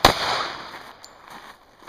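A single sharp handgun shot during a firearms training movement drill, close and loud, with a ringing decay and a faint echo afterward.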